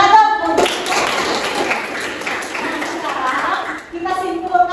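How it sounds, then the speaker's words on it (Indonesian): A classroom of students claps together in a short burst of applause during a lesson, with voices mixed in and a voice speaking as it dies away. "Tepuk tangan dong"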